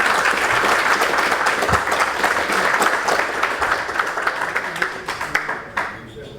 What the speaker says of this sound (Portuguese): Uma salva de palmas a este governo.